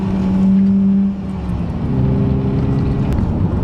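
A manual car's engine drones steadily, then its note drops and shifts as the driver brakes hard and heel-and-toe downshifts through third into second, heard loud from inside the cabin.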